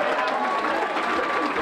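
A brief, dense wash of audience clapping for children at a community Martin Luther King breakfast event, steady and moderately loud, with voices mixed in.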